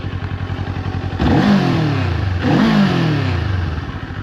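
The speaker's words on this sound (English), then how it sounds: "Let's give it one more little exhaust clip" A 2024 Kawasaki Eliminator motorcycle idles with a rapid lumpy exhaust beat, then is revved twice in quick succession, each blip rising sharply and falling back to idle, loud and close.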